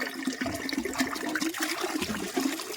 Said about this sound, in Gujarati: ભરાય છે કુંડો.